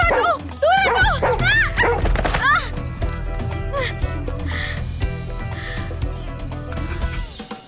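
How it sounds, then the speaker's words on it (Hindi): A dog barks loudly and repeatedly at close range, yips and whimpers tumbling together over a steady low hum that continues after the barking eases. "अपने कुत्ते को हटाओ यहाँ से"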